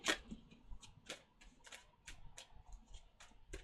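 Tarot cards are shuffled by hand in a quiet room, a series of close, crisp riffling snaps and soft slaps in an uneven rhythm, with no voices.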